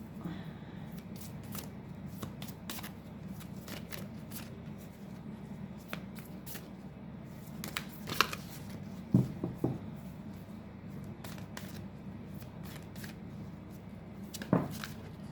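Cards shuffled for a tarot-style reading, a soft steady riffling and sliding texture with a few sharper snaps and taps, close and quiet, with no talking.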